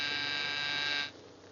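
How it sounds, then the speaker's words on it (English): An electric buzzer drones steadily with a harsh, bright tone for about a second, then cuts off and leaves only faint low background noise. It sounds close, with no speech. "Why the buzzer?"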